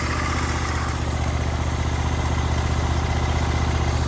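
A Ferris IS600Z zero-turn mower engine idling, a smooth, steady low rumble with an even pulsing beat, close and unchanging for the whole stretch.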